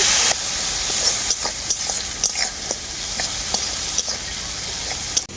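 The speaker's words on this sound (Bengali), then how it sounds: "কয়েকটা কাঁচা পাকা লঙ্কার চেরা একসাথে খুব ভালো করে কষিয়ে নেব অল্প একটু জল দিয়ে দেবো মশলাটা ভালো করে কষানোর জন্য" Spice paste with slit green chilies fries in a pan for a shol fish curry, a loud continuous sizzle close by, marked by repeated spatula scrapes and taps as it is stirred, with no speech.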